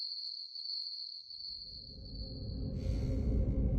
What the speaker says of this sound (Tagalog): Tanging tunog ng kuliglig ang namamagitan sa aming dalawa.